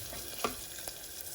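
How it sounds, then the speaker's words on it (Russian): Onion frying in a deep heavy-bottomed sauté pan, a quiet steady sizzle with a brief stir or clink of a utensil partway through and another soft knock near the end. "лук буду обжаривать в глубоком сотейнике с толстым дном"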